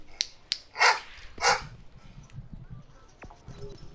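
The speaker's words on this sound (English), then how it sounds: "Doggy not happy." A dog barks several times in short sharp bursts at moderate distance, the barks standing out over a quiet room with faint background talk between them.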